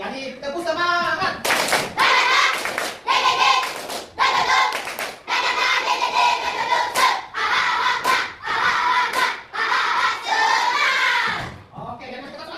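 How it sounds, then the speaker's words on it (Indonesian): A school class doing a rhythmic spirit clap together, loud bursts of unison hand claps in patterned groups separated by short pauses, with children's voices chanting along between the clap sequences. "Jadi tepuk semangat."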